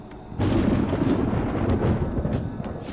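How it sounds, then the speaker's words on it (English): Thunder rumbling in the video game Persona 5 Royal, a deep sustained roll that swells abruptly and stays loud with a few sharper cracks, heard alone without voices. "It sounds like it's going to rain."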